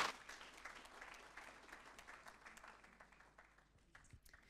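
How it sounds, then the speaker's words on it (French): Applause from the audience at an agricultural investment conference plenary, a dense steady patter of many hands that gradually thins and softens toward the end, heard fairly faintly with no talk over it. "avec vos applaudissements, merci de m'accompagner"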